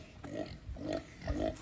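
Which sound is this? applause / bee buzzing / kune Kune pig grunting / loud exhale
kune Kune pig grunting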